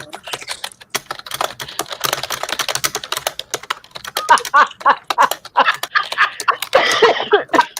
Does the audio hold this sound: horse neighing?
no